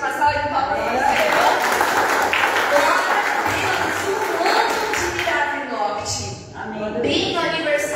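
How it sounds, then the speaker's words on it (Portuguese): A church congregation claps along, applause running under loud talking or singing voices that dominate, with the clapping blended into the crowd sound throughout. "Uma salva de palmas para vocês."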